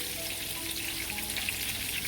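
Steady, loud sizzling of small fish frying in hot oil, a dense crackling hiss that continues without a break.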